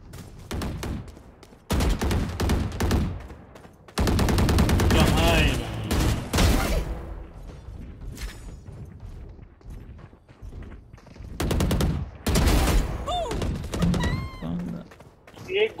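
Bursts of gunfire from the online shooter game Valorant, loud rapid volleys with pauses between them, and someone speaks over and between the shots.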